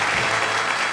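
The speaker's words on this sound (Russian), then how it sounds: "Ваши аплодисменты для Леночки." Studio audience applause on a Russian-language daytime TV makeover show, a dense, steady wash of many hands clapping, loud and continuous for about a second.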